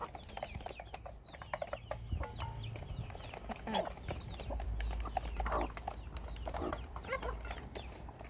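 A mother hen clucks softly among her chicks in a farmyard, scattered short clucks and peeps in an irregular rhythm, fairly faint and close, with a low rumble underneath.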